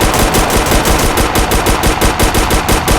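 An MPX drum gun in the Roblox game South Bronx The Trenches fires in a loud, continuous burst of rapid automatic shots with an even, pounding rhythm through the whole stretch.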